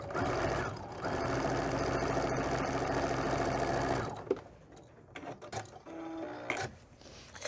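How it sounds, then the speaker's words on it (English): A sewing machine runs a straight line of stitching through fabric for half square triangle quilt pieces, a steady close whir of about four seconds that stops abruptly, followed by quiet handling noises. "sewing an extra line down the side"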